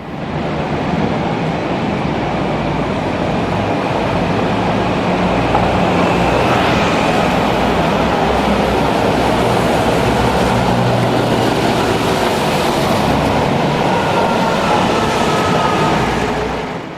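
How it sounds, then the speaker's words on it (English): A London hybrid double-decker bus on route 76 climbs Fleet Street toward Fetter Lane, its engine giving a loud, steady roar with broad traffic rumble all the way through and no voices. "Hybrid HV10 climbs Fleet Street on another 76 journey and approaches Fetter Lane."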